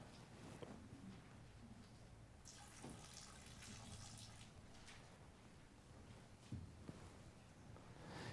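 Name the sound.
water being poured out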